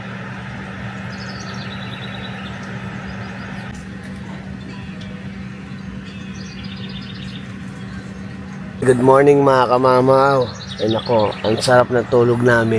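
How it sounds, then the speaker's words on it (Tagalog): Birds chirp and tweet faintly in the distance over a low steady hum at a campsite, and then a person starts talking loudly close by. "Narinig niyo yung huni ng ibon na yun"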